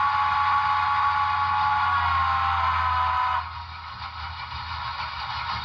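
A model 2-8-0 Consolidation steam locomotive's electronic sound system sounds a whistle, a long, steady, harmonic tone for about three seconds, then cuts off, leaving a quieter hum.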